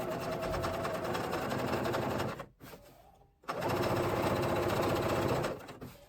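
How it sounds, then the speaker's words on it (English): A sewing machine runs loudly and steadily while understitching dress pockets, with a brief drop to a quieter pause around the middle before the fast stitching resumes and then eases off at the end. "as I sew each of the pockets, I am going to understitch"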